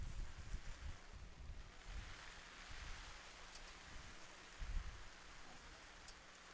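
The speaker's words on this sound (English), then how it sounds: "as the rain sets back in" Rain falls steadily over an outdoor high-school football game in Magazine, a soft continuous wash of hiss with low rumbling wind gusts, no voices present.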